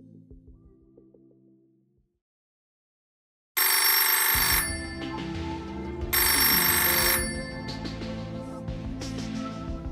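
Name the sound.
library quiz telephone ringing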